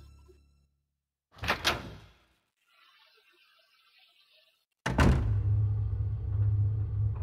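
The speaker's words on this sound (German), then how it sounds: "Wir gehen mal durch diese Tür." A door in Resident Evil 2 opens with a short double thunk of the handle and latch, then after a pause a heavy swing with a low rumbling drone that continues.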